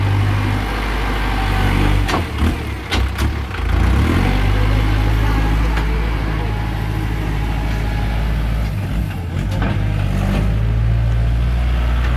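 Kubota L5018 tractor engine running steadily, a loud, close, low diesel rumble that holds throughout, with a few short knocks and clatters breaking through along the way.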